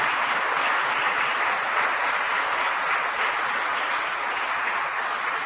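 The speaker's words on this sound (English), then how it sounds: "Let's give a round of applause to all the great innovators in American agriculture today" A large crowd at an Agriculture Day speech claps in a steady, even roar that holds at full strength from start to finish, with no talking over it.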